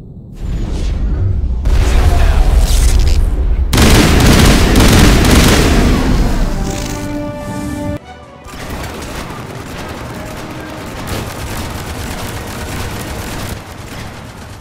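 Dense, loud volleys of gunfire and booming impacts from the Mass Effect video game fill the scene, with sustained rapid shots, explosive bursts and a sudden cut before quieter continuing fire, no speech.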